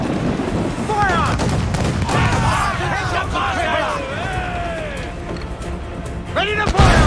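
Sailing ships trade cannon volleys in Assassin's Creed IV Black Flag, loud booming shots and crashing impacts over a noisy sea battle, with crew voices shouting and a final heavy blast near the end.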